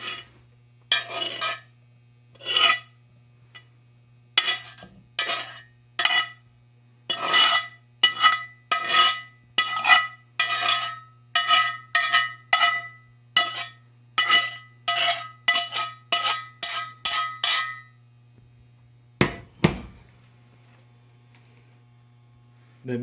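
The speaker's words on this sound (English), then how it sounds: "I just want to mix it together, warm everything up" Browned meat being stirred into chili in a cooking pot, with a utensil scraping and clinking against the pot in a steady series of short strokes under a constant low hum, followed by a brief pause and a couple of final stirs.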